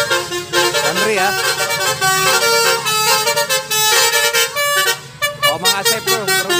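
A Damri bus blasts a loud, musical multi-tone horn in a long repeating melodic sequence, close and dominant, with brief gaps between phrases.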